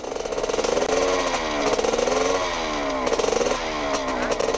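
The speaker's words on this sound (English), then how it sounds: "Another outboard that he repaired." A repaired outboard boat motor runs at fairly high revs, a loud buzzing, rattling drone with slight rises and dips in pitch, heard close with no voices.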